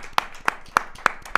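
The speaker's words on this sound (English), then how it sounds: "Very few people get a round of applause when they make their return to Filthy." Five sharp hand claps come at an even pace, close and clear, welcoming back a returning panelist on a Premier League football panel show.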